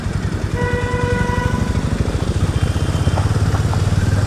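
A Hero Mavrick 440 motorcycle pulls away after starting, its steady engine note loud and close with a regular low pulsing beat and rising tone as it rides off.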